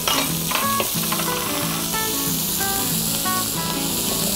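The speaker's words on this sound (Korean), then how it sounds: "잘 볶아지면 토마토와 완두콩을 넣고 살짝 볶아줍니다." Tomatoes and peas stir-fry in a pan for a clam paella, a loud, steady sizzle and hiss running the whole time with faint scraping of stirring over it.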